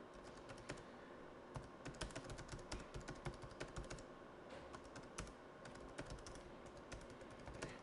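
Fingers type on a computer keyboard, a quick irregular patter of close key clicks that continues steadily at low volume with no voices.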